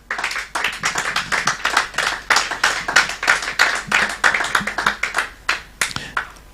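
A church congregation clapping in rhythmic unison, many hands beating a steady repeated pattern at close range, sustained and lively without pause.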